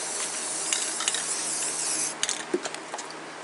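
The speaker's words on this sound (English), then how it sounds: "He's spraying the last one right there" Primer paint sprayed onto a steel sawmill crane part in a shop on a rainy day, a steady broad hiss running throughout with a few faint clicks and knocks near the end, no voices.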